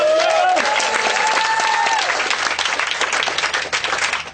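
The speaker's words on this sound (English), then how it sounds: "Will you give a round of applause, please?" A comedy audience at a festival show applauds loudly for two performers, dense steady clapping filling the room from the start, with a few cheers rising briefly, then thinning and tapering off toward the end.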